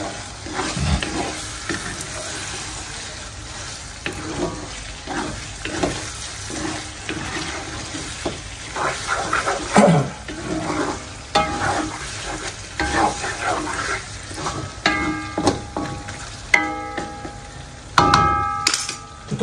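Continuous sizzling and crackling of shrimp frying in a pan for chili shrimp sambal (sambal udang), with scraping and clanging of a utensil stirring throughout, close and busy.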